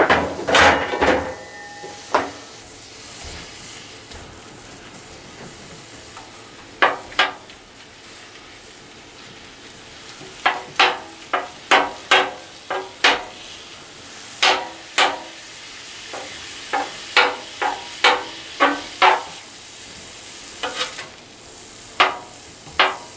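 A pound of chorizo fries in a pan, a soft steady sizzle running beneath sharp, irregular clacks of a utensil stirring and scraping the pan, close and fairly loud.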